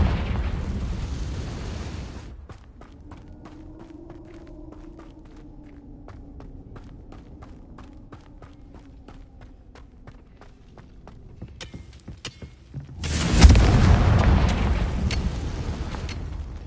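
A Confringo fire spell in the game Hogwarts Legacy bursts with a loud whooshing explosion near the end. Before it come a rush of noise, then a quiet stretch of rhythmic footsteps over a low hum.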